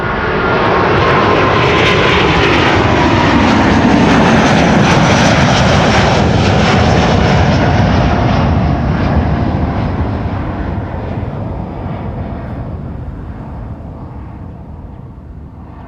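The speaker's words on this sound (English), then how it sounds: "The A330 cargo has begun to move, moving towards the threshold of runway 24." An A330 cargo jet taxis toward the runway 24 threshold at Amsterdam Schiphol, a loud, continuous engine roar that holds steady and then slowly fades over about sixteen seconds.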